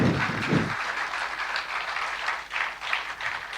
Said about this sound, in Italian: Lo accogliamo con un grande applauso